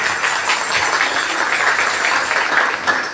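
A church congregation claps and applauds at a Sunday prayer service in Islamabad, steady loud applause for several seconds without pause.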